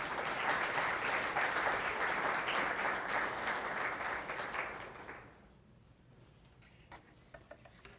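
An audience at a lecture conference claps steadily to welcome a speaker, a dense wash of applause that fades out after about five seconds, leaving a few scattered claps and room quiet.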